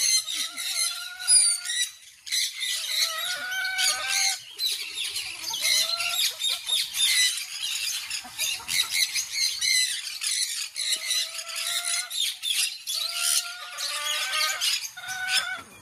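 A noisy flock of birds squawking and screeching continuously, many overlapping harsh calls, loud and close, with no talking.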